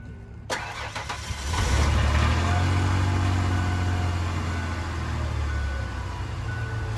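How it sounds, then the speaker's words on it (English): A 1997 Ford Explorer engine cranks and starts, then settles into a steady, close idle as it runs to warm the oil, with no talking. "you always want to crank your car up, let it run for a little bit, get your oil warmed up so it's loose"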